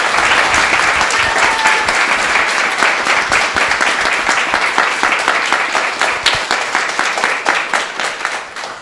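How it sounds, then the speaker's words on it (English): A sustained round of applause from an audience at a Vyasa Puja celebration, with dense, steady clapping that holds loud throughout and tapers slightly near the end. "let's give us one quick more round of applause"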